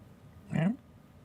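A house cat gives a single short, quiet meow, a brief rising cry standing out against faint room background.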